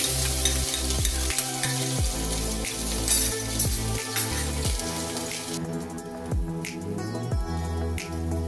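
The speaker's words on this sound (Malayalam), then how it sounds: "ഇതൊന്ന് ചൂടായി വന്നിട്ടുണ്ട് ഇനി ഇതിലേക്ക് ജിഞ്ചർ ഗാർലിക്ക് ചതച്ചത് ഇട്ട് കൊടുക്കണം" Crushed ginger and garlic frying in hot oil for Arabic tomato rice, a dense continuous crackling sizzle that stays loud and close throughout, with no talking.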